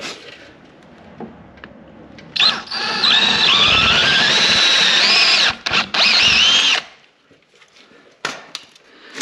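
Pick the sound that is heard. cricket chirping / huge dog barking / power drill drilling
power drill drilling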